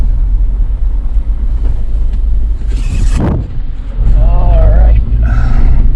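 A Jeep with a manual transmission drives along a road, its engine rumbling steadily and close throughout, with a brief surge midway and a short spoken remark over the drone.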